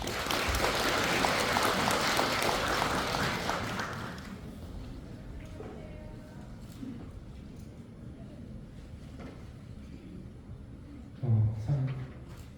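Large audience of about 500 residents at an apartment redevelopment briefing applauds to welcome the committee chairperson, a dense sustained clapping for about four seconds that fades into a quieter murmuring room.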